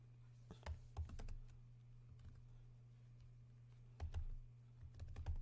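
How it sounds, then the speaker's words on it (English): Faint keystrokes on a computer keyboard come in short bursts of quick taps separated by a quiet pause, over a low steady electrical hum. "You type a prompt."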